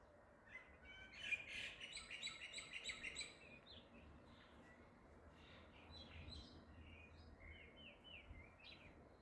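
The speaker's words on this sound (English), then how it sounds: "It's always so lovely sitting outside here, listening to the chirping of the birds." Several small birds chirp and tweet outdoors in quick bright bursts, busiest early on and then thinning to scattered calls over a soft background hush.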